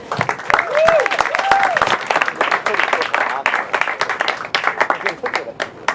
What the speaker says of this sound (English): please give a round of applause to Juan Hernandez